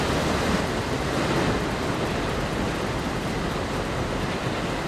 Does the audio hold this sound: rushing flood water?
yes